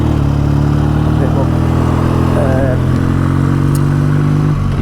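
A BSA A10 650 Super Rocket motorcycle runs on the road with a steady, loud engine drone and mechanical clatter, wind noise mixed in and the rider talking over it.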